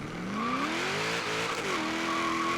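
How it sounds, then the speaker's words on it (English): A 1973 Holden HQ Monaro GTS 350 with boost launches from the line in Forza Horizon 3, its engine revving up, bouncing through first gear and shifting to second, loud and close with some tire squeal. "So we're going to let go of the e-brake and we're off."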